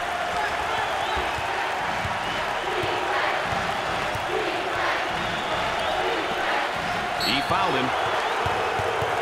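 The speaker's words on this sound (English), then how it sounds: "there's all kinds of people standing and cheering and going wacky" Basketball fans in an arena at a Big XII tournament semifinal between Texas Tech and Houston cheer in a steady roar of crowd noise and whistles, with a commentator talking over it.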